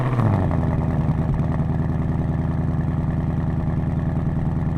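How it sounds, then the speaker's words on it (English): A Ford Mustang GT with a catback exhaust fires up from cold, a brief starter churn giving way to a loud, steady, rumbling idle that stays close and constant with no voices. "It is officially my last cold start."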